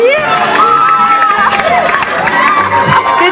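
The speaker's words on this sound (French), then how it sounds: "Des applaudissements, mesdames et messieurs, pour la nouvelle Miss Burundi." A crowd roars and cheers at the crowning of the new Miss Burundi, loud continuous shouting and whoops with high excited voices, sustained throughout at close range.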